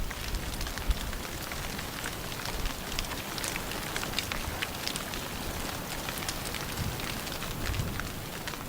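Steady rain pours down without letup around a white stork nest, a dense continuous hiss of drops pattering on surfaces with no voices or other sounds breaking through.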